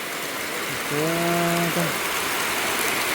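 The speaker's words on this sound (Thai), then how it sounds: "ฝนตก ฝนตกท่วมแล้ว" Heavy rain pours down in a flooding village with a steady hiss throughout, while a short humming tone rises over it for about a second near the middle.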